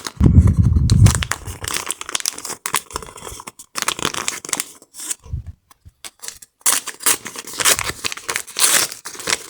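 Crinkly paper surprise packet being torn open and handled, with bursts of rustling and crackling separated by brief pauses, close and fairly loud.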